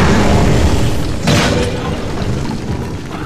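Trico, the giant creature in The Last Guardian, firing a lightning bolt from its tail: a heavy booming blast with a sharp crackling burst near the middle, fading into a low rumble.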